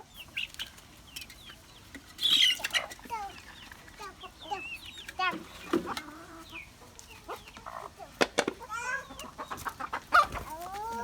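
Chickens being fed, clucking and calling in scattered bursts, fairly close, with brief louder squawks and soft rustling between calls.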